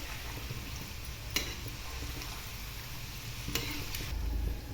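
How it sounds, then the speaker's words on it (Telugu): Onion pakoda fry in hot oil with a steady, close sizzle that runs the whole time, broken by a couple of soft stirring clicks. "చూడండి ఈ విధంగా మంచి కలర్ వచ్చే వరకు బాగా వేగనివ్వాలండి"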